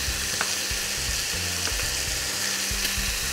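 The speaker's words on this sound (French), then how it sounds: "Pendant que les oignons et les petits lardons reviennent" Onions and bacon lardons sizzle steadily in a pan, a close, continuous crackling fry with a few faint clicks over a low background hum.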